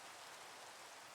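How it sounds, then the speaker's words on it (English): Steady rain hisses evenly in Minecraft with the All The Mods 9 modpack, a soft, continuous wash of falling drops with no other sounds. "Oh, and it's raining."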